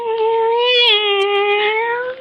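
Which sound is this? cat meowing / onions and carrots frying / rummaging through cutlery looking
cat meowing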